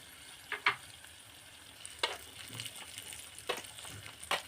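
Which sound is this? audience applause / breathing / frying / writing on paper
frying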